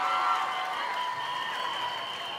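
A television studio audience at a telethon claps and cheers for a guest being welcomed, a dense, even wash of applause that holds steady and fades slightly toward the end.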